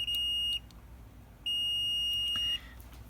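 A multimeter continuity tester beeps during a Nintendo Switch circuit repair: two steady, clear electronic tones, the first about half a second and the second about a second long, with a short pause between them and no talk.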